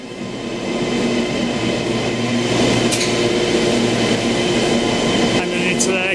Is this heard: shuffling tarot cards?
no